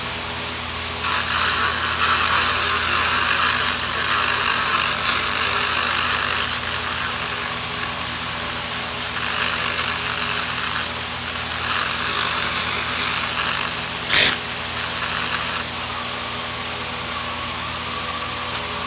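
An SFX continuous laser cleaning machine strips rust from a car bumper, giving off a sustained buzzing, whining drone that wavers in pitch. A single sharp crack cuts through near the end, and no one talks.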